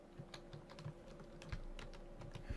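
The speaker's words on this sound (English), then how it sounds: "I can't type and talk." Rapid, steady typing on a computer keyboard, soft and close, with a low constant hum underneath.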